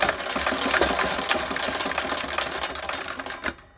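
A fishing reel's cable or line unwinding during repair, a rapid continuous whirring rattle close by that holds steady for a few seconds, then cuts off.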